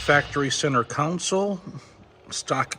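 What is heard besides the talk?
No everyday noise stands out behind the speech.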